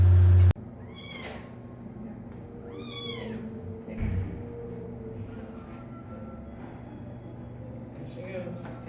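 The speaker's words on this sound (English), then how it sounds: "a bunch of cats" Cats meow several times, rising and falling cries spread across the clip and close by, over a steady low rumble, with a short loud thump near the start.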